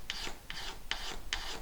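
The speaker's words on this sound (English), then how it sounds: "give it a quick scrape off" Utility knife blade scraping dried wood filler off a Thinline Telecaster guitar body, four short rasping strokes at a steady, even rhythm, close and fairly quiet with no talking.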